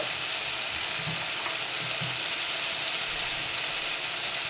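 Tomatoes fry and soften in a pan for a mushroom curry, giving a steady, close hiss and sizzle with a few soft low bumps from stirring, no talk.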